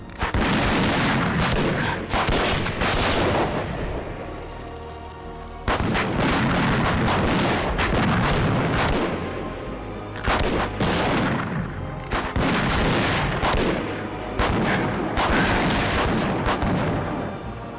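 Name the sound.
gunfire in Peter Pan movie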